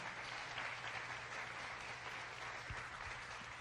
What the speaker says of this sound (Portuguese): se for para Jesus, você pode aplaudir